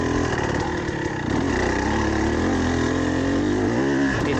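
A 2024 TX 300 dirt bike engine coasting in third gear, a loud, continuous two-stroke drone with a wavering pitch that sags and recovers, heard close and alone.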